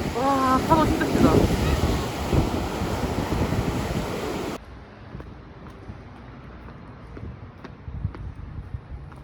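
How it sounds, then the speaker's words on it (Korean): Large ocean waves crash on the Jeju Island coast in a loud, continuous roar with heavy wind buffeting the microphone. The sound drops sharply about halfway through to a quieter, distant surf. "와, 파도 진짜 크다."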